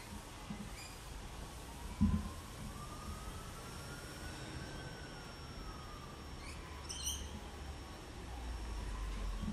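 A distant ambulance siren wails faintly outside a house, its tone slowly rising and falling beneath a steady wash of passing traffic and ambient outdoor noise, with no one speaking.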